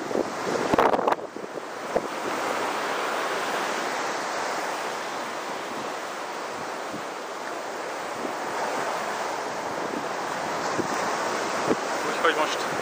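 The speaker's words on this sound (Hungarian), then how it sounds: "Elég jók a hullámok" Ocean surf breaks steadily on a beach in Taiwan, a continuous broad wash of waves with wind buffeting the microphone, with no talk heard.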